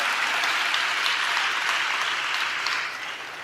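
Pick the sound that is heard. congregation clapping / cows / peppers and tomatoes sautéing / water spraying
congregation clapping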